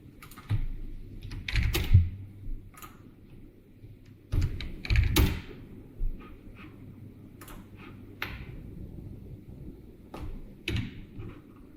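Computer keyboard shortcut presses during a 3D modelling session, heard as scattered clicky keystrokes in small clusters with pauses between them, close and moderately loud, no talking.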